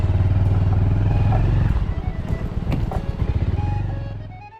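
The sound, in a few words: motorcycle ride to sunrise point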